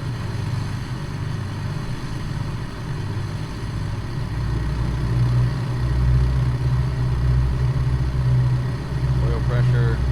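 Three radial engines of a Ford Tri-Motor 5-AT run up in a flight simulator, a steady low droning rumble that swells slightly as revs climb, with someone talking over it.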